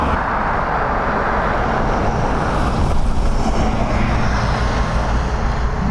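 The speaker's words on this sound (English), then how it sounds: "this brand new one from Ryanair, arriving from Seattle" A brand new Ryanair Boeing airliner, delivered from the factory at Seattle, arrives to land at Dublin. Its roar is broadband and steady, loud and close, and holds constant through the whole stretch with no talking over it.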